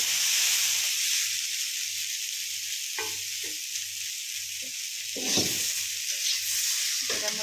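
Cabbage and potato frying in a pan, a steady close sizzle and hiss running throughout with a few brief clinks and stirs.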